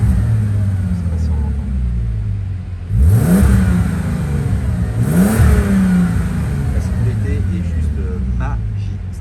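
A Bentley Continental GT engine, heard through a slightly opened door, idles with a steady low hum and is blipped twice, each rev surging loudly and falling back.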